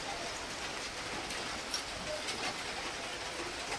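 Heavy storm rain falls outdoors at evening as a steady broadband hiss with faint patter, even and moderately quiet throughout, and no talking.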